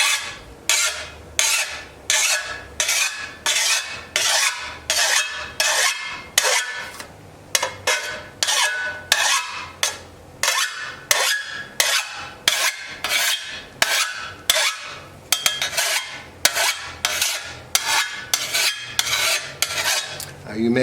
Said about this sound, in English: I like to use a file, and you just go at it at a 45-degree angle